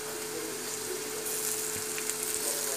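Green chilies fry with onion in hot oil in a pan, giving a steady, close sizzle that hisses evenly throughout with no talking.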